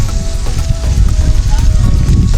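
Steady rain hisses close and loud during a bicycle ride along the San Joaquin River, a dense continuous patter with no voices.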